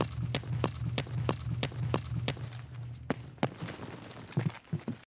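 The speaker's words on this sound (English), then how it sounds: "I suddenly heard footsteps nearby." Close footsteps on a hollow wooden floor in Escape from Tarkov sound as a steady, regular run of thuds, followed by a few scattered, heavier steps at the end.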